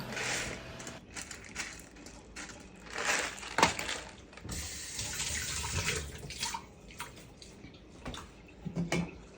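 Tap water runs while fish are rinsed, a continuous close splashing with irregular knocks and sloshes as the fish are handled under the stream.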